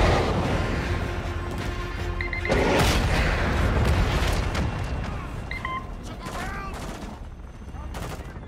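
Heavy anti-aircraft gunfire rattles in bursts at a Hind helicopter in Call of Duty DMZ, booming volleys broken by short gaps, with electronic beeps and a voice shouting over the shooting.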